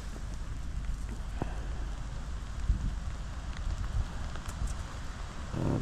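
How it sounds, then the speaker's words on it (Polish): Steady rain falls outdoors on an Arctic shoreline, a continuous soft hiss of drops with occasional louder patters close by, and no voices over it. "Zaczął dość mocno deszcz padać, patrzcie, cały mokry jestem"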